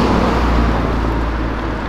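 Lamborghini supercars accelerating together produce a loud, continuous engine roar, dense and sustained with a deep low rumble, heard up close without pause.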